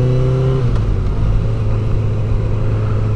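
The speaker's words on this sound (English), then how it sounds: "I also want you to be able to hear the noise from the Yoshimura R77 exhaust" A motorcycle with a Yoshimura R77 exhaust rides along, its engine giving a loud steady drone mixed with heavy wind buffeting on the microphone.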